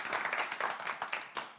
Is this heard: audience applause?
yes